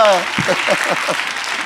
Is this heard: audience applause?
yes